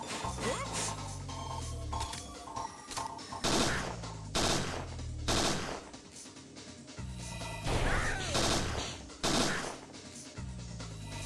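Gunfire in the video game Parasite Eve 2, bursts of loud repeated shots and crashing impacts over a layered game soundtrack, filling the whole stretch without talk.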